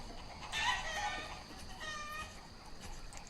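Chickens clucking in the village-building game Banished, two short bursts of bright clucks and cackles over a steady low game ambience, moderately loud and with no talking.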